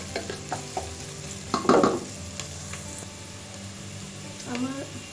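Onion and chopped garlic fry in a pan with a low sizzle, a burst of stirring and scraping near the middle, and a few clinks of a utensil against the pan.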